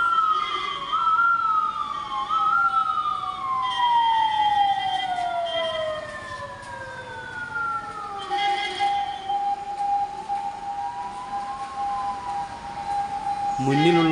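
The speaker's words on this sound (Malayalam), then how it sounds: "ഒരു ആംബുലൻസ് ബസ്സുകളുടെ മത്സര ഓട്ടത്തിനിടയിൽ കുടുങ്ങിയ ഒരു കാഴ്ച." An ambulance siren, trapped between racing buses outside a bus stand, wails in a long rising and falling tone that carries across the whole stretch, loud over road noise and engine rumble, with other siren tones overlapping.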